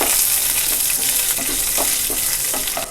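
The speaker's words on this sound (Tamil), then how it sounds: "இப்போது இது கூட கருவேப்பிலை ஒரு 2 கொத்து, காஞ்ச மிளகாய் ஒரு 3, இதையும் சேர்த்து வதக்கிக்கலாம்" Curry leaves and dried red chillies sauté in hot oil with a loud, dense, continuous sizzle, and a spatula knocks and scrapes through it at a steady pace.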